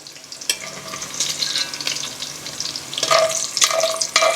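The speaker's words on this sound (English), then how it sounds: "Now I want to remove the bacon to a bowl." Bacon sizzles and crackles in a pot with olive oil for a beef stew, while a spoon scrapes and clinks as pieces are lifted out into a bowl, close and steady.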